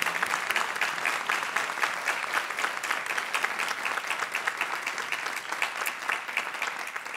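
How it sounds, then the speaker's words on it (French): Steady applause from an audience at a judicial year-opening ceremony, many hands clapping densely and evenly for about seven seconds with no voices over it. "je vous suggère de lui donner une bonne main d'applaudissement"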